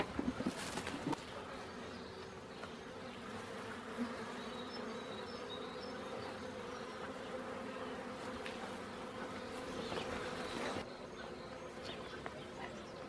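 Honeybees buzz at the entrance of a Warré hive in February, a dense, continuous close hum of many insects with a few louder passes, heard alone.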